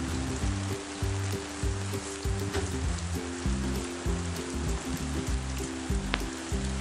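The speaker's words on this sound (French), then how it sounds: "Il a plu toute la nuit et il pleut encore." Steady rain falls on a horse shelter, a continuous dense patter and hiss with a low rhythmic drone running underneath throughout, no voices.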